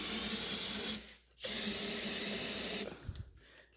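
Brake cleaner sprayed onto an oil furnace burner in two close, loud hissing bursts, the second longer, with short silences between and after.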